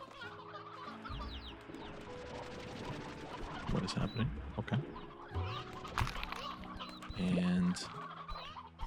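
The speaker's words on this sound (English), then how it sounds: "That is a very interesting chicken." Chickens cluck and squawk repeatedly in Slime Rancher 2, mid-level and fairly close, with a few louder bursts; someone speaks briefly over them.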